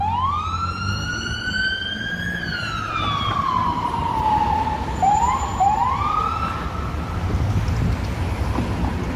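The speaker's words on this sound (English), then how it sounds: "when I hear the emergency vehicles approaching, then I stop talking so you can hear the sirens." A police siren wails through downtown Chicago near Balbo, sweeping up and down in long pitch glides and then quicker yelps, fairly close and loud over a steady bed of street traffic, with no one talking.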